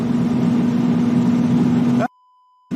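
Sports car engine roaring at a steady high rev for about two seconds, loud and close, then cutting to sudden silence before the engine noise returns at the end.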